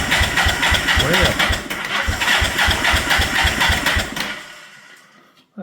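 A Yamaha TX750 motorcycle engine cranks over at full throttle with a steady, rapid starter chug for about four seconds, loud and close, then winds down and stops, with a voice briefly heard over it.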